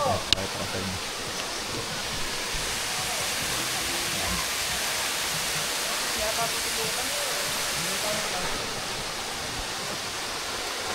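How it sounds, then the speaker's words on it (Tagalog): Batlag Falls in Tanay, Rizal roars as a steady, loud wash of falling water, a dense, unbroken rush filling the whole stretch from start to finish. "Katabi lang namin yung waterfalls mga idol."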